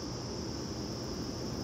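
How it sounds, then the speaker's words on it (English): Crickets chirp before dawn outdoors: a steady, high, continuous trill held at even loudness over a soft noisy background, with no voices. "The birds ain't even chirping out here, but feel me, I hear the crickets."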